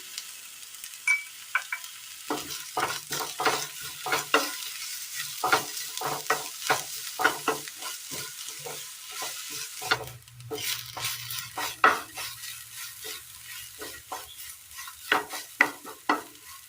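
Onions sautéing in oil in a pan for a Kerala masala, a continuous sizzle punctuated by frequent rhythmic scraping strokes of a spoon, with a low hum joining partway through.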